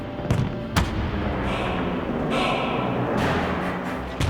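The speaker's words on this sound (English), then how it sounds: "The 3rd Panzer stops upon the sight of his exploding compatriots and swiftly takes aim at one of Leiper's Hel" Tank cannon fire and exploding WWII Panzer tanks struck by Hellcat tank destroyers: two sharp, loud blasts early on, then a sustained roar of rumbling explosions and crackling debris through the rest.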